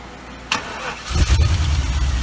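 An old Mino car engine cranks briefly, then catches and runs roughly on starting fluid, a loud, uneven idle that stumbles and surges for a couple of seconds.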